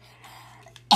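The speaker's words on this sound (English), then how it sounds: "And I'm coughing." A person gives one sharp, loud cough right at the end, after nearly a second of quiet room tone, during a spinning-top battle game.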